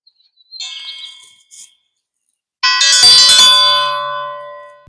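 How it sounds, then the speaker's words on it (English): A dinner bell at a BBQ shack rings in two short bursts, then swells into a loud, sustained metallic ringing that lingers with a bright shimmer. "Might have to ring the dinner bell on that one."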